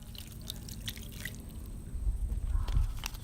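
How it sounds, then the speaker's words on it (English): Soy sauce and pineapple juice poured into a pan of smoked pork belly with brown sugar, giving a close, soft trickling splash of liquid that grows fuller toward the end. "Now you're going to add the brown sugar, soy sauce, and the pineapple juice."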